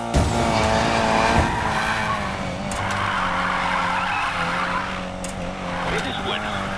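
A car drifting in Need for Speed Payback, its tyres screeching in a long sustained skid over a steady engine drone, loud and close, with a voice talking over it.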